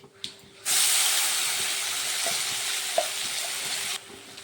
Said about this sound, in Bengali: ফোড়নে আমি এখন প্রথমে একটা তেজপাতা দিয়ে দিচ্ছি, আর দেব জিরে